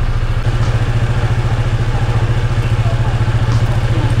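A Honda ADV 160 scooter engine idles close by with a loud, steady, evenly pulsing low throb that barely changes throughout.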